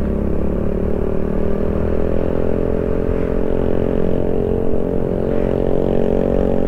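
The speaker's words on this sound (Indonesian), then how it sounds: "wah enak ngarep ki motornya kenceng tenan suara mesinnya. Suara knalpotnya ding." A motorcycle on a rural road between Sukorejo, Kendal and Bawang, Batang gives a loud, steady engine drone and exhaust rumble from close by, continuous throughout with no talking.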